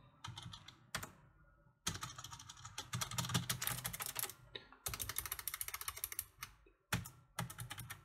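Numeric keypad keys on a Razer Ornata Chroma keyboard are pressed in close, crisp bursts of rapid clicks separated by short pauses, with no talking.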